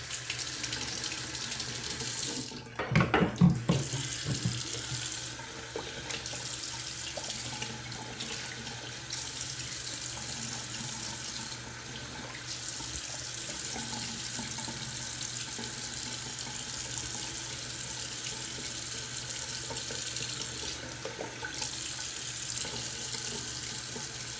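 A tap runs steadily into a sink while a shaving razor is rinsed under it, giving a close, constant hiss of water with a brief louder splash and clatter near the start and no talking.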